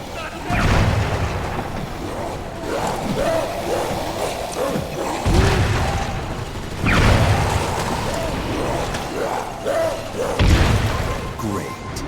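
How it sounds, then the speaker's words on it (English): Grenades explode in Crackdown 2 with deep, heavy booms, three or four big blasts spaced a few seconds apart and rumbling debris between them, while a voice speaks over the action. "Use your grenades to blow these freaks to pieces."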